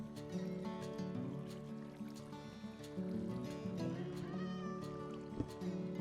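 A cat meows in a video game over a steady bed of game music and ambient tones, the calls moderately clear against the background.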